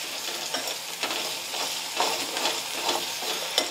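A tempering of spices fries and sizzles in a pan while being stirred for jowar kadabu, a steady close hiss with light scraping strokes throughout and no talk.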